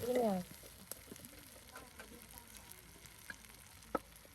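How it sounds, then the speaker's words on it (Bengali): Ginger-garlic paste and spices sautéed in oil, a faint low sizzle with occasional utensil taps and a sharp clack near the end, following a brief voice at the start. "এখন কিন্তু আদা সেই রসুন বাটা মশলা তেলের সাথে কষিয়ে নেওয়া হচ্ছে"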